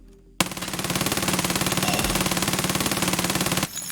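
Yellow Vector submachine gun fired in Escape From Tarkov, one loud, very rapid full-auto burst lasting about three seconds, steady and close, alone with no talk.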